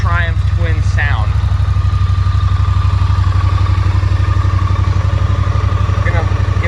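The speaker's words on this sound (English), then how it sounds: "Look at that beautiful classic Triumph twin sound." A 2018 Triumph Street Twin parallel-twin motorcycle engine fires up and settles into a steady, close idle with a rhythmic low throb, a brief voice heard over it near the start.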